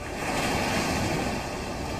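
Floodwater from severe Assam flooding rushes along submerged roads, a loud, steady broadband roar of churning water with no voices, sustained evenly from start to finish.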